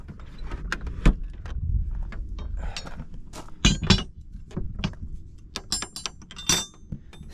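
A metal spoon clinks and scrapes as something is pried open outdoors on a mountain, giving a run of sharp, irregular close taps and knocks of uneven loudness with no talking.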